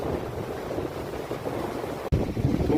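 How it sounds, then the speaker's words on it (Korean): Steady rushing wind and surf roar of the winter sea at a coastal lookout in Sokcho, South Korea, with a low rumble, continuous and fairly loud, with a brief dropout near the end. "속초 전망대 파도 바람소리"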